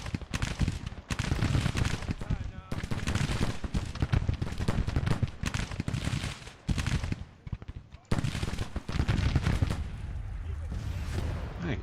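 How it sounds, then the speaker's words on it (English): Repeated bursts of battlefield artillery and rifle fire from the Grand Tactician Civil War strategy game, loud and dense, with brief gaps between heavy volleys and a voice talking underneath. "What kind of cannon did these guys pull up?"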